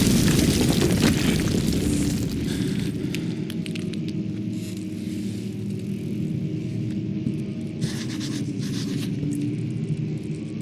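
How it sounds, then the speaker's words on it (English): A passage caving in inside the castle in the horror video game Amnesia, a loud, sustained low rumble with a dense crash at the start that settles into a continuous deep grinding roar, with no voices. "the passage you just came from will cave in"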